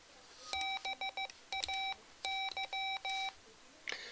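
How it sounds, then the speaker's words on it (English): A Mr. Rags macro keyer sounds sharp electronic beeps in several quick clusters, with steady rapid tones broken by short pauses, clear and close in a quiet room. "I'll hold the function key down for 2 beeps."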